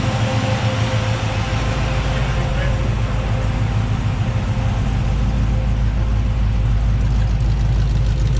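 A Ford 351 Cleveland V8 idles steadily up close, its low, even rumble loud and continuous throughout with a slight lope.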